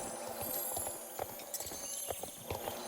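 Horse hooves clip-clop in a video game, a steady run of soft, evenly spaced strikes under a dense, continuous game soundscape.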